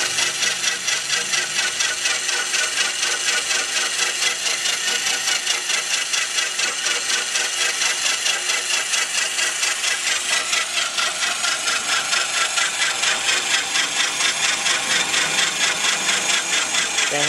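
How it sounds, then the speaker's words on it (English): A Q88E line boring machine, driven by a variable-speed Milwaukee drill, pushes a carbide cutter through a hole, giving a loud, continuous metallic rasp with a fast, even pulsing rhythm throughout. "Carbide cutter is making its way through the hole."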